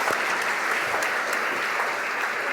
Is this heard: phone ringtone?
no